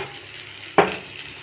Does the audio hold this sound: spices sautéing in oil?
yes